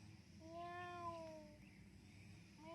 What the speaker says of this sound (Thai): เสียงลูกแมวจากไหนนะ